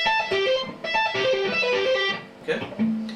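Electric guitar tapping lick played fast, a quick run of tapped notes shifting across strings that ends in a brief pause and one lower sustained note, close and distinct.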